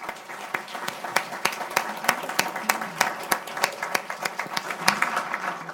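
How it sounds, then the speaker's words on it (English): Audience applause at a policy forum on national and international service, a steady patter of many hands clapping at moderate volume with a faint voice underneath, continuing throughout. "So please, a warm round of applause for them."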